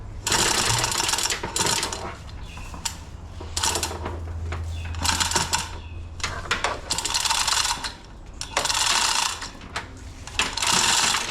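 A chain hoist ratchets in repeated bursts of clicking and clattering while lifting a vehicle by its axle in a shop, with short pauses between pulls.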